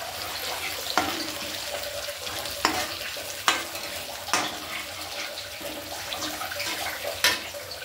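Ginger garlic paste is stirred into a frying fish curry base, with a steady sizzle of hot oil and a spoon or ladle scraping the pan at intervals, close and fairly loud, with no talking.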